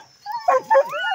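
Hunting dogs out after armadillo at night give short, close whimpering yips and two quick barks in a brief burst.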